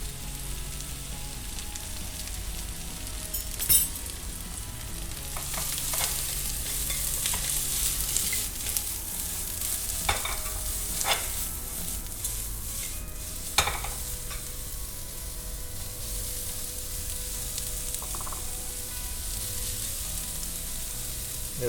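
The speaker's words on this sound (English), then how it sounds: "Little bit of salt and pepper." Vegetables including onions and raw carrots stir-fried with salt and pepper for Japanese homestyle tenshindon, with steady close sizzling and frying plus intermittent scraping and stirring clatter throughout, no voices.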